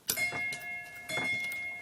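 A pull-cord doorbell at a house in the Asturian village of Castañeo'l Monte, rung by hand: two bright ringing strikes with sustained tonal ring, about a second apart, close and clear with no talk.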